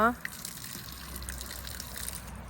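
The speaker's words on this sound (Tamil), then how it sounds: "தண்ணி ஊற்ற மழை மாதிரி இருக்கு" Water is poured onto rose plants in a home garden, making a steady, soft gushing splash that continues for the whole moment after a brief louder burst at the start.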